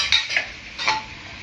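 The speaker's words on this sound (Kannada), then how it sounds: "ಈಗ ಎಲ್ಲ ಮಿಕ್ಸ್ ಮಾಡ್ಕೊಳ್ಳೋಣ." Vegetables being stirred and mixed in a frying pan while cooking a vegetable roll filling, with a few soft scraping strokes close by and no talking.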